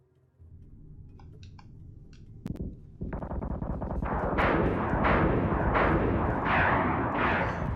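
Ship gunfire during a space battle in the Battlestar Galactica Deadlock video game: a dense, continuous barrage of rapid bursts that builds in loudness and keeps rolling, with no talk over it.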